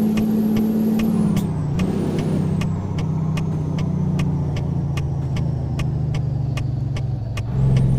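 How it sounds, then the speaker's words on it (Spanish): A Kenworth T600 hauling four trailers in American Truck Simulator, its engine brake holding a steady low rumbling drone while the pitch sags and rises, with a regular ticking sound throughout and no talk. "el freno de motor lo detiene bastante"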